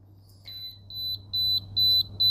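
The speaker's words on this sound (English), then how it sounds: "So that beeping that you hear in here, that's kind of beeping broken radio effect that your brain gets as well." Repeated electronic beeping in a home, a run of short high-pitched tones growing steadily louder and longer, evenly spaced over a low steady hum.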